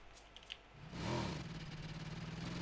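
A motorcycle engine in the video game PUBG, on the Erangel map, starts up and idles with a steady, rumbling putter, close and fairly loud.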